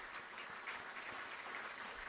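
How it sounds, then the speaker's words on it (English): Audience applause at the swearing-in ceremony of Ghana's Chief Justice, a steady, fairly quiet wash of clapping that holds evenly for about two seconds with no voices over it. "I believe we can do another big round of applause for His Excellency the President"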